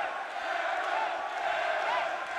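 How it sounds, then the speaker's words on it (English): Arena crowd at a Heat Sports fight cheering for fighter Joe Emmons, a steady distant roar of many voices with faint shouts rising out of it. "Getting loud in here. The cheer is Emmons."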